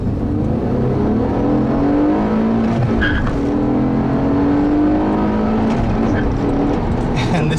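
Loud 2006 Honda Accord V6 with a 6-speed manual on a test drive, its exhaust droning steadily with rising engine harmonics as it accelerates through the gears, close and continuous, with a brief spoken phrase near the start.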